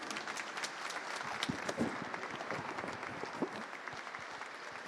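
Warm applause from a conference audience for a CISO cybersecurity panel in Minneapolis, dense steady clapping held at a fairly quiet, distant level throughout with no talking.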